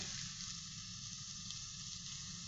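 Ground aasubathi leaves fry in oil with hot cloves, giving a dense, continuous sizzle that stays loud and even throughout, close up, with no talking.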